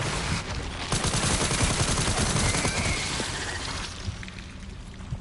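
Rapid, continuous SMG fire from the survival-horror game Resident Evil Requiem, a dense, loud burst of automatic shots that rattles on for several seconds before tapering slightly, with no voices over it.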